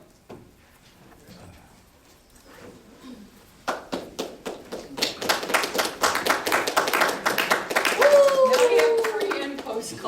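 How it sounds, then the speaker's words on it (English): Classroom clapping during project presentations, starting sparse then swelling into steady group applause with rhythmic claps, a voice and talk rising near the end. "Clapping to get motivated."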